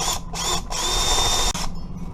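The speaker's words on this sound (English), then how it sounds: "Now I'll come back with a bigger bit so I can countersink them." A power drill with a larger bit countersinks pre-drilled screw holes in a wooden desk board, whining steadily in three close, loud bursts with short pauses between them, no talking.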